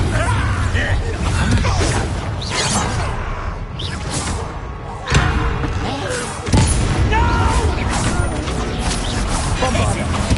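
Confringo fire-blast spell from the Hogwarts Legacy game, heard as sharp whooshing impacts and booming crashes among ongoing combat effects, with a voice speaking over the loud, busy fight.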